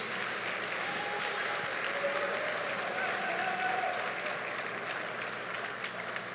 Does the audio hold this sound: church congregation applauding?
yes